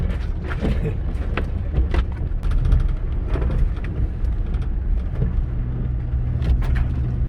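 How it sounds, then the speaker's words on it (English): A car goes through an automatic car wash, with loud, continuous rumbling and gushing water close around the vehicle, broken by sharp thumps and swishes. "Goes for the car wash."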